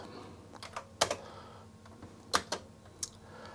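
Keys on a Sanyo Wavy 23 MSX2 computer keyboard are pressed slowly, about half a dozen distinct, close clicks spaced irregularly over a quiet background hum, with no talking.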